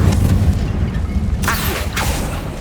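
A Confringo blasting spell explodes in the video game Hogwarts Legacy, giving a loud, low, rumbling boom with two sharper bursts close together toward the end.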